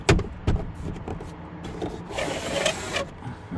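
A sliding window on a 2004 Ford F-150 pickup truck is opened, producing a soft rubbing, rolling slide with a few light clunks, heard up close with no talking.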